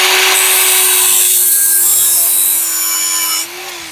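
A power tool grinds weld nodules off the metal wheel-arch bodywork of a BMW, giving a loud, close, harsh whine that holds steady for several seconds, then drops off sharply near the end.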